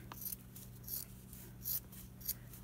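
Scissors making a few quick snips while cutting material to size for a homemade stamp cleaner, soft, close and crisp, spaced out in short cuts with a faint background hum.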